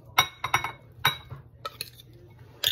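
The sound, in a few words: mixing tuna ceviche with cucumber and tomato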